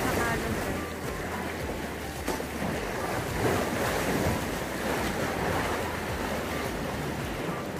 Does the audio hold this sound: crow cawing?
no